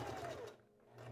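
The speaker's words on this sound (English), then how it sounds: "This time I'm actually going to sew all the way across." A sewing machine stitches straight across a seam on a Valentine's Day dress, a soft steady mechanical whir with a faint needle rhythm that briefly dips mid-run, close and fairly quiet.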